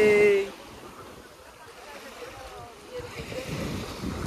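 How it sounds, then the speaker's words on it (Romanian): Ocean surf washes onto a beach at Playa de las Americas, a soft rushing swell that fades and builds again under wind noise, with a child's and adult's voices heard briefly. "Și valurile sunt cât mai mari, cât mai mici."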